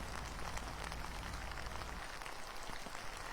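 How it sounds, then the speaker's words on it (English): Heavy downpour beside Conewago Creek in Pennsylvania during the remnants of Storm Debby, a dense, steady hiss of rain without a break and no voices. "now it's downpour rain"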